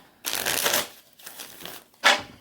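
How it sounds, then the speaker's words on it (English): Tarot cards are shuffled in three quick riffling bursts, close and crisp, with short pauses between them. "we have a card that dropped in the middle of my shuffling"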